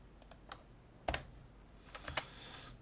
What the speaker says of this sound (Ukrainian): Друкуємо якийсь текст, натискаємо Enter.